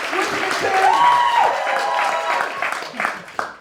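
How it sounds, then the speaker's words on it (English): An audience at a live show whoops and cheers loudly along with clapping, a dense crowd roar that holds steady and then begins to fade, with a rising whoop cutting through near the start. "Whooping and cheering"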